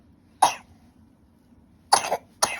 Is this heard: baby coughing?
yes